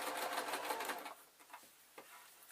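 A sewing machine runs in a quick continuous burst while stitching elastic into a beaded clutch bag, then stops, leaving a few soft handling clicks and fabric rustles at low volume.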